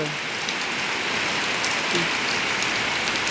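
Steady, dense rain pattering on a surface, a constant even hiss with scattered drops, no voices.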